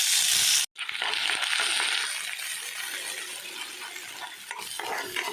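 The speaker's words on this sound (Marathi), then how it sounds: "वाटण पूर्ण ब्राऊन होईपर्यंत भाजून घ्यायचं" Masala paste for a soyabean curry sizzles loudly in hot oil in a kadhai while being stirred, with a steady close frying hiss after a brief gap near the start.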